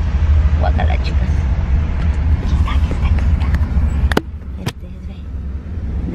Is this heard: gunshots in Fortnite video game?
no